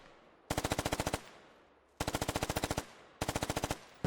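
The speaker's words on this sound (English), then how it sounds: "We're putting sporadic fire on it now with an MG." Three bursts of rapid machine gun fire in the video game Squad, each a tight string of about ten evenly spaced shots, with short pauses between bursts and no talking.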